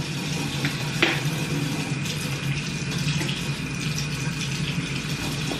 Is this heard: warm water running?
yes